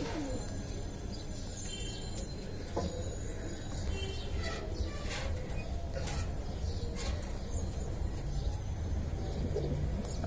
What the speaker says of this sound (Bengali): কাজ করাটা খুবই ভালো কবুতর।